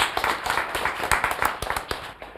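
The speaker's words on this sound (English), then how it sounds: "Let's clap for him." A small audience claps at a talk on success, a fairly faint, uneven patter of individual hand claps that thins out toward the end.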